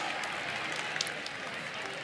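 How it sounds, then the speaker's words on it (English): Audience clapping after a school annual day performance, a brief dense burst of applause with crowd noise and talk mixed in. "Let's give them a huge round of applause for this beautiful performance."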